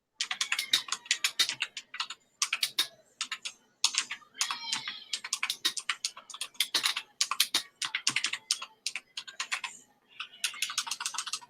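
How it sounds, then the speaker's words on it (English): Rapid bursts of crisp key clicks on a computer keyboard, close and fairly loud, typed in quick runs separated by brief pauses over a quiet background. "You must be typing something."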